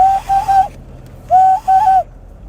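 A person imitates the call of a loon, Minnesota's state bird, by whistling: two loud, wavering, tremolo-like whistled phrases separated by a short pause, close and alone.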